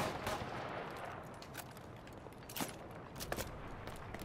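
Gunfire in the online multiplayer shooter Killzone Shadow Fall, with a M55 Rumbler in play: rapid bursts and scattered single shots crackle steadily throughout, some close and sharp, others quieter in a noisy battlefield mix.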